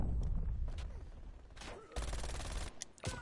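Call of Duty Cold War MAC-10 submachine gun gunfire rips out in loud, dense bursts, with short pauses, mechanical clicks and sharp cracks between volleys and no talk.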